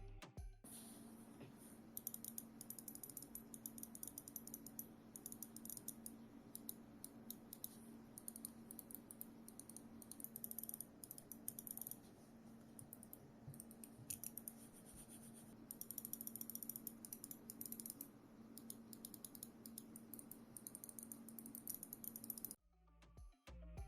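Quiet, crisp clicks from the buttons of a lightweight computer mouse come in irregular bursts and short runs over a low background hum. No speech.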